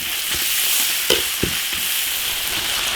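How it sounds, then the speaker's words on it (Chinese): Fatty pork belly sizzles hard in an iron wok, a steady bright hiss broken by a few sharp scrapes and clacks of stirring, close and loud with no voices. "把五花肉的油煸出来，然后再放调料"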